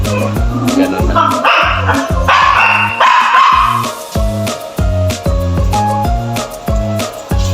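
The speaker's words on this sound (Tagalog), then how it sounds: "Kulit naman ang mga aso mo." Several dogs bark loudly and close by in rapid, repeated bursts, mixed with higher yips that keep on without a break.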